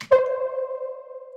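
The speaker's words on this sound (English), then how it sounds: "that plays like this small note with a saw wave, something basic" A single basic synth pluck built on a saw wave sounds on its own. It starts with a bright attack, then a clear buzzy tone holds a steady pitch and fades over about a second.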